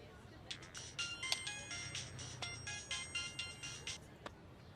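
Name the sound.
phone ringing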